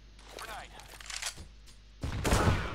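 Video game combat with rapid bursts of gunfire and a heavy grenade blast near the end, loud and close, while voices talk over the action.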